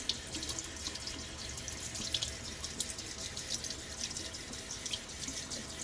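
Steady running water from a tap splashes over a shaving brush, a continuous close hiss with small bursts of spattering throughout.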